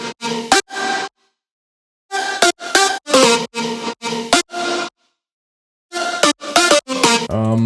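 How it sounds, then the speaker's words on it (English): Bright, punchy synth lead stabs in choppy rhythmic bursts with gaps of silence between phrases, loud and close, ending on a deeper sustained tone. "So this is what the leads together sound like."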